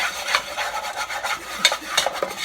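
A flour roux for homemade four-cheese macaroni and cheese is stirred in a pan, a steady close scraping and rubbing with a few sharper rasps, and no one talking.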